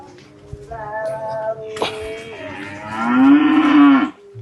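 Cattle moo in a shed, giving several loud, close, drawn-out lowing calls one after another, with a sharp knock partway through.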